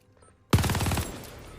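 A sudden close burst of automatic gunfire in a Call of Duty match, a rapid string of shots lasting about half a second before ringing out into a fading tail.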